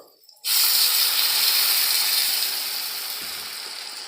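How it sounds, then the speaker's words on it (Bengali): Water poured into a hot kadai of fried vegetables for vegetable chops bursts into a loud, sudden hiss that holds steady and slowly fades over several seconds. "এগুলো ভাজা হয়ে গেছে আমি জল ঢেলে দেবো"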